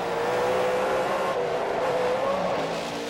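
A Toyota off-road race truck engine roars close and sustained at high revs during a race, its pitch shifting slightly as it pushes hard, with no voices.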